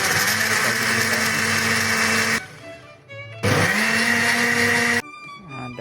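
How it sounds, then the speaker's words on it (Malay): Electric blender whirring through dragon fruit with sweetened condensed milk and water for juice: a loud, steady motor roar that cuts off, pauses briefly with rattling, then starts again before stopping. "dah siap proses blender."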